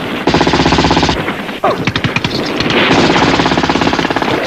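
Bursts of automatic weapons fire with AGS-17 automatic grenade launcher fire, a dense rattling stream that pauses briefly, resumes with scattered sharp reports, then continues in sustained rapid volleys.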